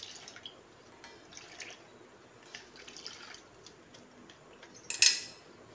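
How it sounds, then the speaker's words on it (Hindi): Milk being poured into a bowl of semolina and stirred, soft drips and light spoon clinks against the bowl with a brighter splash near the end, close and quiet without speech. "इसमें डालेंगे दूध। दूध से इसे घोलेंगे।"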